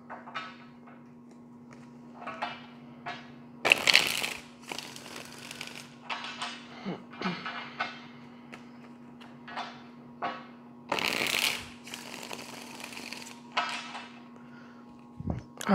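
Tarot cards shuffled and handled during a reading, with two loud bursts of riffling and scattered soft taps and slides between them, close and clear over a steady low hum.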